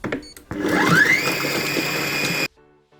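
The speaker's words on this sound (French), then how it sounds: "On referme et on va le hacher. On met la fonction hacher." A Compact Cook Pro food processor chops an onion in a loud two-second run, its motor whining up quickly to a steady high-pitched hum before cutting off abruptly.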